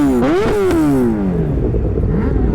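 Motorcycle engine revving hard at a motorcycle gathering, pitch rising and falling through several quick throttle blips before settling into a lower rumble, close and loud with no talking.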